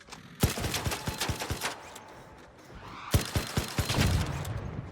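Gunfire in the shooter game ARC Raiders, with rapid bursts of sharp shots in quick runs, a pause, then another cluster of loud close reports mixed with impacts. No one speaks.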